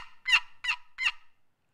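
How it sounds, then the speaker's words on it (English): A wooden turkey box call is stroked to make three evenly spaced, high, raspy yelps, each clear and close, then falls quiet. "nice strokes when you're yelping on a box call"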